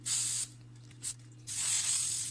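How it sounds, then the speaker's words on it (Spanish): Cooking oil from an aerosol can sprays onto a chicken-crust pizza topped with vegetables before air frying: two sharp, close hissing bursts with a tiny puff between them. "aceite en aerosol"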